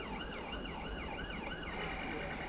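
A wailing emergency siren rises and falls steadily throughout, fairly loud over a constant low traffic rumble.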